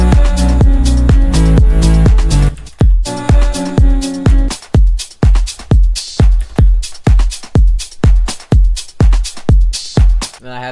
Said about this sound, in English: Was the drum loop, the kick, and then this percussion.